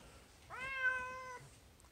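A pet cat gives one clear, drawn-out meow rising then holding steady, close by, in an otherwise quiet room.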